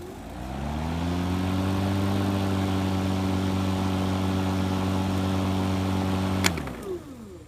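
Loud, steady hum of an EGO electric mower motor running close, with a strong low tone, then a click and a quick spin-down.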